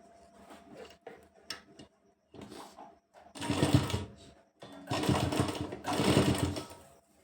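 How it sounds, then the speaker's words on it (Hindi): Sewing machine stitching the folded-in edge of a kurti half collar, running in two sustained loud bursts after a few short start-stop stitches, close up with no voices. "इसे अंदर की तरफ फोल्ड करते हुए इस पर लगानी है सिलाई"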